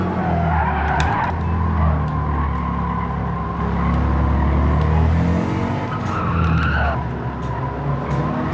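Race car in Gran Turismo 7 braking hard and skidding, loud engine drone under long tire squeals that rise and fall across several seconds, close and continuous.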